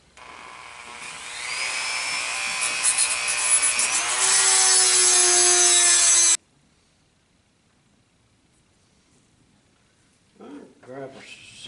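A rotary tool fitted with a small grinding stone whines at high pitch against a custom trigger guard for about six seconds, its tone dropping as the stone bites, then stops; brief faint handling noises follow near the end.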